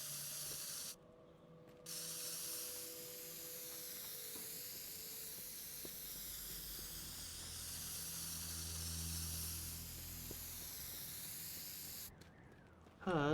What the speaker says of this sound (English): This route works, I just need to actually spray can it out.